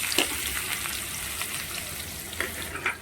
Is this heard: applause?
no